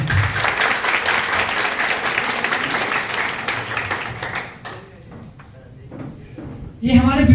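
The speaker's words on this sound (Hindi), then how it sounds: "तो एक बार चाहूंगा इस मंजन के लिए जोड़ा तालियां।" Audience applause at a business plan presentation, a broad steady wash of clapping for about four seconds that thins and fades, then a louder burst near the end, with a voice likely mixed in.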